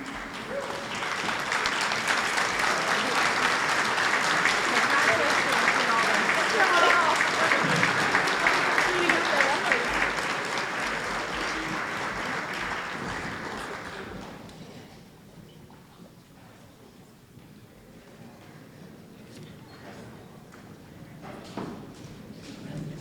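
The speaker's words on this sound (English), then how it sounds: "One last applause." Many hands clap in a school gymnasium at a senior awards ceremony, a loud, sustained wash of applause that gradually fades to scattered claps and room murmur.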